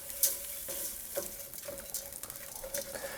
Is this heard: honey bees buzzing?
no